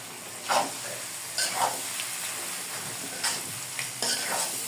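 Vegetables including carrot and fried potato sizzle in a pan for chowmein, with a steady frying hiss broken by several louder bursts as a spatula stirs and tosses them.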